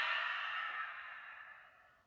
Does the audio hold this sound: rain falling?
no